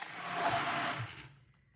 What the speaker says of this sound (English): I'm going to use a hand blender to blend all of this up